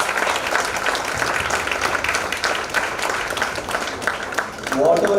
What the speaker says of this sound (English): I just kindly request you to give a big round of applause for them